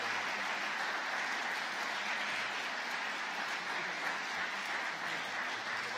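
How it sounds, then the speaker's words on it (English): Sustained applause from the audience at a candidates' debate on the environment, a dense, even wash of clapping that holds steady throughout without voices standing out. "let's give our attendees here a hand of applause"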